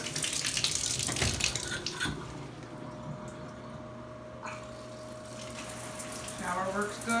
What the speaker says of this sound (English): Shower works good.